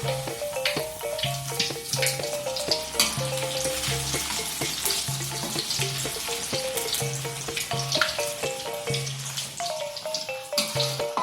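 Corn fritters (perkedel jagung) frying steadily in hot oil over medium heat, a dense continuous sizzle and bubbling with occasional crackles and faint clinks, close and fairly loud, no voices.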